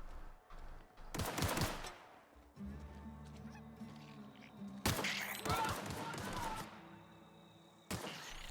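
Bursts of gunfire erupt in a firefight in The Outer Worlds, with loud clusters of rapid shots separated by quieter stretches of game ambience.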